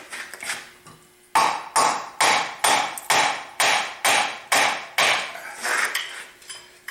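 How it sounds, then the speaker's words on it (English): A chain wrench loosens a tight part on a 325 engine during valve removal, producing about ten sharp metallic clanks in an even rhythm, each ringing briefly before the next, close and loud. "So we're down to our trusty chain wrench."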